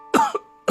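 A man in an animated story lets out a short, voiced cough, one strong burst and a quick smaller second, then a fresh cough starting, close and clear with nothing else around.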